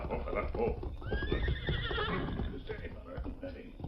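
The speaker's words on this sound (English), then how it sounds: "he heard hoofbeats approaching" Horse hooves clopping closer amid busy background sound, with a horse whinnying partway through; the scene is loud and continuous.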